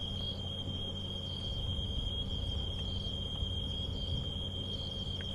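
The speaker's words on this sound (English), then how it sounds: "all around me now I can hear the stridulating of various crickets, and I think something called a rain locust" At sunset on a safari drive, crickets and a rain locust stridulate in a continuous, high, steady trill, with a pulsing chirr underneath and a low vehicle rumble, and no one speaking.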